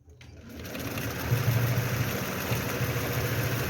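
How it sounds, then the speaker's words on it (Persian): Sewing machine stitching a braided cord tray, running steadily for several seconds with a continuous close buzzing whir and no pauses. "این اول و آخر کار رو با درجه ریز چرخ یکم میدوزیم و درجه رو دوباره درشت میکنیم."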